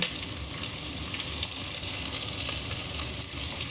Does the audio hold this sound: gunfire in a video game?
no